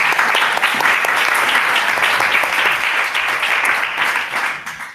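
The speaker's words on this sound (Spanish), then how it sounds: "Un aplauso para a nosa coordinadora, non?" Audience applause for a coordinator at the start of a public talk, a steady, loud, sustained round of clapping that tapers slightly toward the end.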